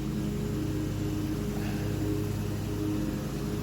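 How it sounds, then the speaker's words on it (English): A city worker's riding lawn mower cuts grass in a park by a big shade tree, giving a steady, continuous engine drone in the background with no talking. "That's what that noise is you hear in the background, the lawnmower."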